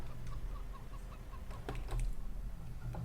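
Hens cluck in quick, soft bursts, a few birds calling close by against a low background hum; chickens in the video game Farming Simulator 17.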